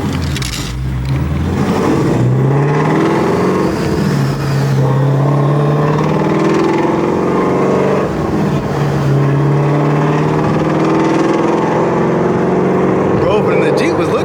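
Shelby GT350R race car running on E85 fuel, accelerating hard with a loud, steady engine roar that climbs in pitch through the gears from inside the cabin, with people talking over it.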